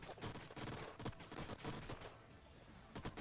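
Turrets fire in the strategy video game Age of Wonders Planetfall, with rapid, dense volleys of crackling gunfire and blasts bursting throughout, fairly faint in the mix.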